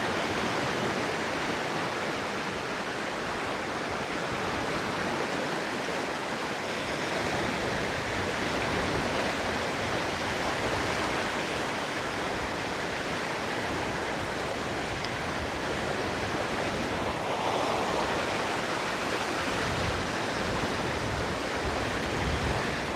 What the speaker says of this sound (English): Whenever I come to the ocean